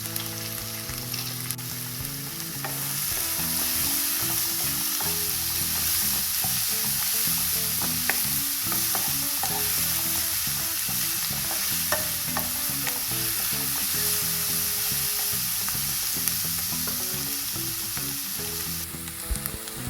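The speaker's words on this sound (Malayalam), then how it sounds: "നമ്മളെടുത്ത് വെച്ചിരിക്കുന്ന സവാള, ഇഞ്ചി വെളുത്തുള്ളി, പച്ചമുളക് എല്ലാം നന്നായിട്ട് ഇട്ട് കൊടുത്ത് നന്നായിട്ട് വഴറ്റാം." Onion, ginger, garlic and green chili frying in coconut oil for a Kerala beef fry, a steady loud sizzle with occasional scraping stirs and clicks throughout.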